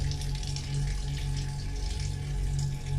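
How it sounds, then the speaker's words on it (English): Water running under an old mill at Daniels Mill, a steady close rushing flow with a constant low hum beneath, continuous and even throughout. "It's no surprise to see and hear water running under the mill."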